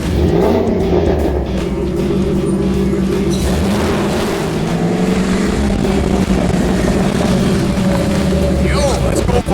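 A rat rod truck engine rumbles loud and close with a deep, throaty drone that surges and rises as it revs and pulls away, with someone talking over the engine.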